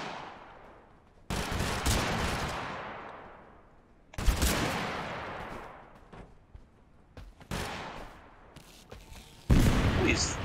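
Auto revolver gunfire in the TABG video game: several sharp, loud bursts of rapid shots, each ringing out and fading, spread across the stretch with quieter gaps between.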